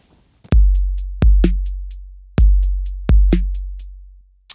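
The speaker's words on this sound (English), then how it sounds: "we're also going to start to explore 16th note grooves, which sound a little bit like this" A drum-kit beat for beat-making plays a 16th-note groove: loud booming kicks with snare hits and quick tight hi-hat ticks in a steady repeating pattern, clean and alone.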